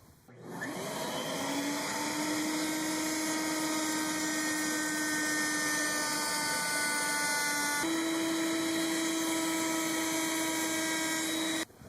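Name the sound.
router trimming 1/4 inch Baltic birch pattern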